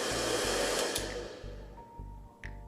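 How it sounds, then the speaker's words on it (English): A hair dryer powered through thin wires blows with a loud, steady whir and a low buzzing hum, alone and close, its tone easing slightly toward the end. "If I try to power a hairdryer using these thin wires"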